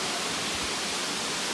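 Krang Suri Falls in Meghalaya pours as a steady, broad hiss of rushing water, even and unbroken, with no voices.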